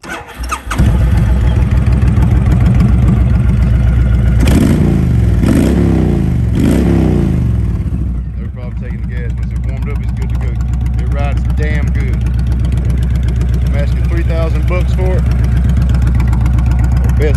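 A 2005 Honda VTX 1300R bagger motorcycle is started up: the engine cranks and revs several times, then settles into a loud, steady, close-up idle that continues to the end.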